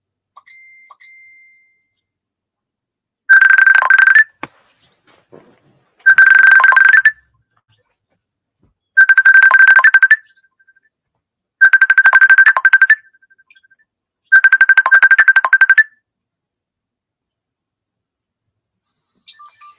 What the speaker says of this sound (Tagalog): Tumatawag ang aking asawa.